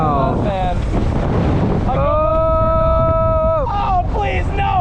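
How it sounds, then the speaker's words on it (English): Strong wind roars and buffets the microphone loudly throughout on an amusement park ride at Gröna Lund, Stockholm, while a voice cries out over the gusts. "Oh, it's windy as hell."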